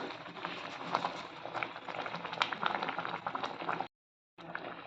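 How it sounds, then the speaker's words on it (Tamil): Busy, bubbling boil of coconut milk in a pot, close and continuous, with a brief silent gap near the end before it resumes. "தேங்காய் பால் கொதி வரட்டும் நல்லா கொதி வந்துருச்சு"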